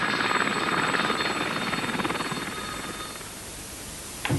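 A military training helicopter flies among mountains near Llanbedr. Its rotor and engine roar is loud and steady and dominates throughout, fading slightly toward the end before a brief knock.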